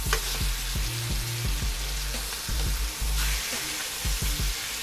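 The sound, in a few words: pork chops searing in a hot pan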